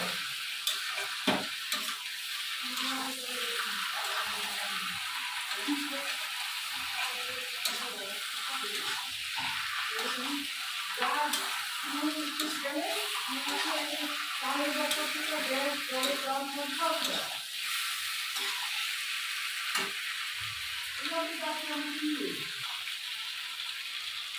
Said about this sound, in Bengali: সাতলানো মোটামুটি হয়ে গেছে, তেল ছেড়ে দিচ্ছে।